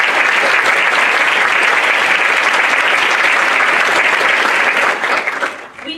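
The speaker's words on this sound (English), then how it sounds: "If you could join me in a round of applause" Sustained, loud applause from the audience at a children's health lectureship event, dense and steady for about five seconds before thinning out at the end.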